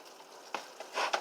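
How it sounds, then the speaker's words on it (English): Ground beef browns in a skillet over moderate heat with a faint, soft sizzle, broken by a few brief scrapes and stirs toward the end. "you want to get a good even browning on the ground beef without burning it."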